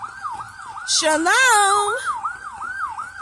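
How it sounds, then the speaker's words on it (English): Emergency vehicle siren, an ambulance or fire engine, wailing steadily in the background with a rising and falling tone while someone speaks briefly over it. "It's an ambulance or something, or a fire engine."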